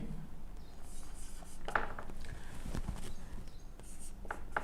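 Chalk or marker writing on a board during a Hindi-language math lecture on three-dimensional geometry, with short scratchy strokes in bursts over a quiet room background.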